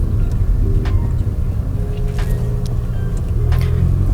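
Steady low rumble of road noise inside a Honda Civic turbo cabin while driving over an uneven road, a constant dense drone with faint thumps from the surface and no talking.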